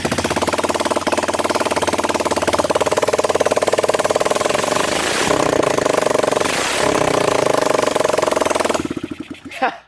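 A small Zongshen minibike engine, hot-wired to a starter battery, runs loud and close with a rapid, rattling putter that holds steady for several seconds, then sputters out and dies near the end.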